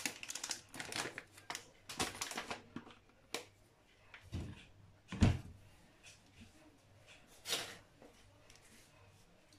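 A package of popcorn kernels being opened in a kitchen, sharp plastic crinkles and rustles in irregular bursts, close and fairly loud, with a few heavier handling thumps.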